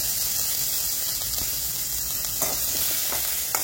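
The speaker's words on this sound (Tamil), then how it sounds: "லைட்டா எண்ணெயை ஊத்தி கடுகு, ஜீரகம், பெருஞ்சீரகம் எல்லாத்தையும் ஆட் பண்ணிக்கலாம்" Mustard seeds, cumin, fennel, green chili and curry leaves sizzle in hot oil, a dense continuous hiss with scattered faint pops and crackles and a few soft stirring touches, close and steady throughout.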